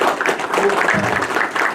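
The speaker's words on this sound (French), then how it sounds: "avec vos applaudissements, je voudrais accueillir Dr Chabel" Applause from a symposium audience in Oran, a dense patter of many hands clapping at moderate volume for a couple of seconds.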